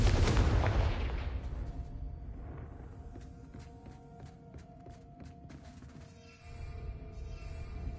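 A Confringo fire-blast spell in the Hogwarts Legacy video game bursts loudly at the start, then fades into scattered impact crackles and rumbling game ambience.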